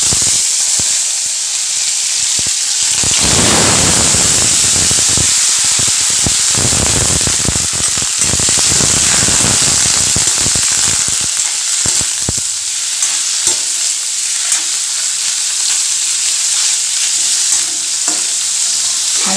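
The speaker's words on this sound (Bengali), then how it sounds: "এই যে পনিরগুলো হালকা ফ্রাই করে নিয়েছি" Paneer pieces shallow frying in hot oil, a loud, steady hiss and crackle filling the whole stretch, with scattered sharper pops and scrapes and no one speaking.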